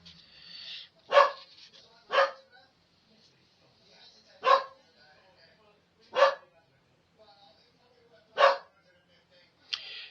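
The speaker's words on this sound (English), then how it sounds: "Sorry about my dog barking," A guarding dog barks at someone outside, sending out six separate sharp barks at irregular intervals, close and clear over a quiet indoor background.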